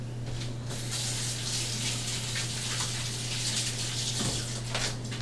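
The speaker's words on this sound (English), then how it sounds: "And then, wash your hands." Tap water running steadily into a kitchen sink while hands are washed during meatloaf preparation, a continuous close splashing hiss over a low electrical hum.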